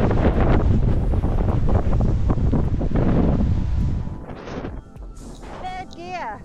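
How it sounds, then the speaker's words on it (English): Wind buffets the microphone outdoors while riding in open country near Otranto, Puglia, a loud continuous rumbling roar that eases off partway through, with a voice briefly heard near the end. "it's all right when I'm sheltered from the wind, but when it becomes more open"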